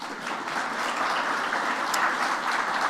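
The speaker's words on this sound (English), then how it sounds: "let's give them a round of applause too" Conference audience applauding the organizers at an algal blooms science meeting, a dense, even round of clapping sustained for a few seconds with no voices.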